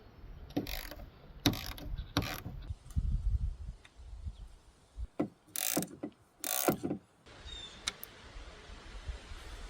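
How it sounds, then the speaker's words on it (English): A ratchet loosens the 10mm bolts holding the tail light on an 18–23 Toyota Camry, giving quiet, close clicking bursts in short separated runs with small pauses between them and no talk. "And now we have access to these two 10mm bolts. So let's remove these two."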